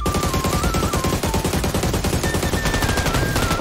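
Sustained rapid gunfire in PUBG as a car is shot up, a dense, loud stream of shots hammering continuously for several seconds with a faint tonal whine running underneath.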